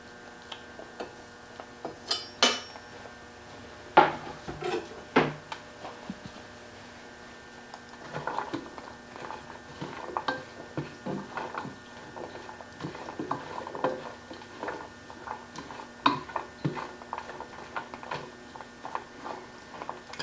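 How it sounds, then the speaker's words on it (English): Chopped yellow onion sautéing in a pan while sausage cooks, giving soft irregular sizzle and ticking crackles with a few louder pops and clinks, steady and fairly quiet throughout. "I'll just go ahead and let this be sauteing while the sausage is cooking."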